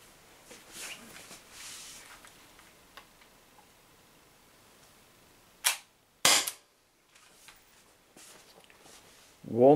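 Umarex HDR68 CO2 air pistol firing Z Ram slugs with the gas nearly spent, giving a couple of sharp close cracks a few seconds apart, then a louder burst at the end, over quiet room noise.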